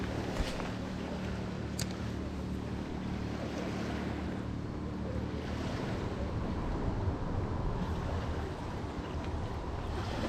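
Strong wind gusts across the Styr river, a constant roar of wind buffeting the microphone over choppy waves lapping nearby, loud and unbroken throughout.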